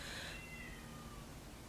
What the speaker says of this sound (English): Y'all hear that? That's my cat.